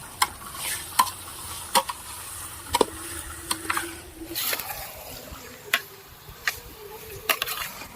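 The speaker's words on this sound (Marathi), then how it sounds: "आता हे मटण या तेलामध्ये या कांद्यामध्ये छान असं परतून घ्यायचंय" Mutton pieces with onions fried in oil in a pan: a soft steady sizzle under repeated sharp scraping and clinking of a spoon stirring against the metal, close and intermittent.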